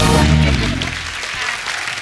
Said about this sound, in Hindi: एक बार पंगा की पूरी टीम के लिए जोरदार तालियां हो जाए।